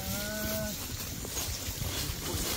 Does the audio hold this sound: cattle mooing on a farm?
yes